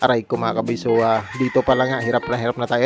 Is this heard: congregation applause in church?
no